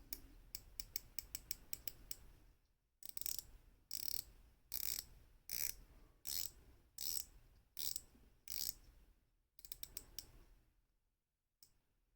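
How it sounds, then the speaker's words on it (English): The rotating bezel of an IXDAO Peregrin Falcon chronograph wristwatch ratchets round in crisp, close clicks, first a quick even run, then slower spaced clicks, and a final quick run before falling quiet, with no voices. "The clicks are nice and crisp. This is one of the better bezel actions I've seen on a watch period."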